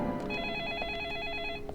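A telephone rings inside the video game Deadly Premonition Origins, a sustained electronic trilling tone that holds steady for over a second and stands alone without voices.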